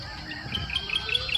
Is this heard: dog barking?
no